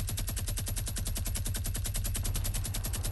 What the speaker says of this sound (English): Hey, start shooting that minigun at them.